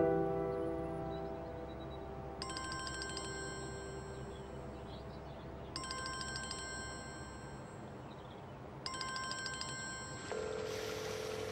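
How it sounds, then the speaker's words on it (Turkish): A telephone rings in three evenly spaced bursts, each a bright electronic trill lasting about a second, moderately loud over a quiet room background. "Telefonu Aslı, aç."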